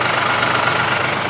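A tractor engine idles with a Kindling King firewood processor attached, giving a loud, steady, close rumble with no pauses.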